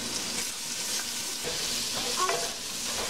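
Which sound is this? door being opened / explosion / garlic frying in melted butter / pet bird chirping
garlic frying in melted butter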